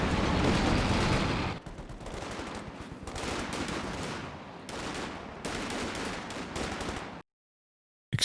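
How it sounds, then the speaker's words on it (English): Sustained automatic LMG fire in the Company of Heroes 2 battle, loud, dense and unbroken, then separate bursts with brief gaps before sudden silence near the end. "He's chopped up by that LMG squad."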